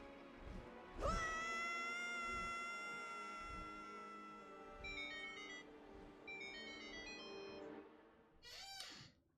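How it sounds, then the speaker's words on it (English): Electronic phone notification chimes ring out in sustained, bell-like tones, with a second, shorter chime near the end; the sound is faint and plays alone with no talking. "I love how my phone doesn't give me notifications until after I have picked it up."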